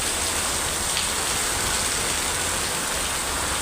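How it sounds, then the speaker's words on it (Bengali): Heavy rain pours down in a dense, steady hiss of countless drops striking surfaces close by, loud and unbroken, with a faint low rumble underneath and no talking. "দেখো কি পরিমাণ বৃষ্টি পড়তেছে"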